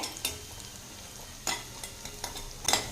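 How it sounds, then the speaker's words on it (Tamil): Finely chopped onion with a sprig of curry leaves sautés in a pan for mushroom and pea soup, a soft low sizzle broken by a few sharp stirring scrapes and clinks of the spatula. "ஒரு கொத்து கருவேப்பிலை சேர்த்திக்கலாம் வெங்காயம் வதங்கட்டுங்க"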